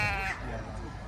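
A sheep bleats once at an agricultural show, a close, wavering cry at the start that fades into background crowd murmur and talk.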